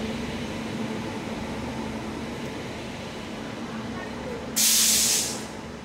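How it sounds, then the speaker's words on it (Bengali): A train pulls into a station on the way to Digha, a steady rumbling wash of noise broken near the end by a sudden loud burst of hissing air lasting about a second. "ফাইনালি 5:15 মেবি বাজে, আসছে ট্রেন।"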